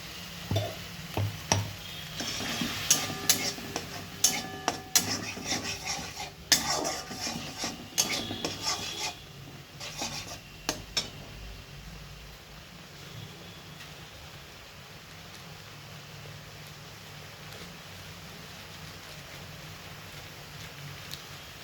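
Capsicum chutney being stirred and dried out in a pan, with repeated scraping and clinking strokes of a spoon against the pan over a soft sizzle, busy at first and then fading to a quieter, sparser background.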